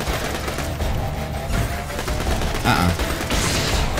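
In the video game Borderlands 2, a caustic shield explosion goes off amid dense gunfire, making a continuous crackling barrage with bursts of blasts. A player gives a brief murmur over it.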